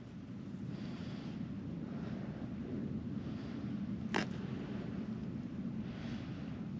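Steady wind rumbles across an open frozen lake during an ice fishing camp, a low constant roar buffeting the microphone, with one brief sharp rustle partway through.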